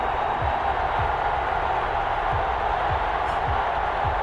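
A large stadium crowd roars steadily before an NFL matchup between the Jacksonville Jaguars and New Orleans Saints, a dense continuous wash of cheering with a few dull thumps underneath.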